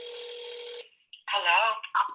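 A desk telephone tone sounds steadily for under a second, then a short burst of keypad tones follows as a number is dialed during a committee meeting, with voices and bleeps overlapping closely.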